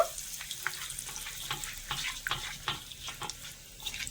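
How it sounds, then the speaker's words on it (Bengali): Bay leaf, dried red chillies and a pinch of asafoetida frying in hot oil, a soft continuous sizzle with faint crackles and light stirring clicks, quiet and without voices. "একটা তেজপাতা আর দুটো শুকনো লঙ্কা দিয়ে দিচ্ছি একটু ফাটিয়ে আর সামান্য একটু দিয়ে দেব হিং ফোড়নটা একটু ভেজে নেব"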